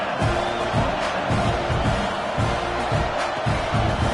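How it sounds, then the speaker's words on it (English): A large football stadium crowd keeps up a steady, loud roar and buzz following a score, dense and continuous with faint shouts rising out of the wash of noise. "this crowd is buzzing after that last score"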